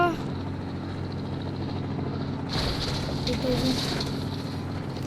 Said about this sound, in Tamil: ஹெலிகாப்டர் வந்துருச்சு.